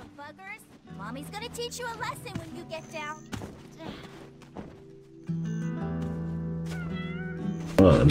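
A cat meows repeatedly in the video game Black Desert, high wavering cries in short bursts amid game music and effects, with a person talking over parts of it.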